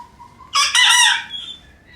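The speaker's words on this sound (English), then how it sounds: "as you can hear, the roosters are getting their voice" A young rooster in a shed lets out one loud, close, squeaky crow lasting about a second, with the cracking voice of a cockerel still learning.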